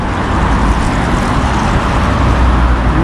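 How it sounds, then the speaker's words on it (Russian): Busy highway traffic rumbles continuously, cars and heavier vehicles streaming past in a dense, loud, unbroken roar with no voices. "Видите, какая оживленная автострада."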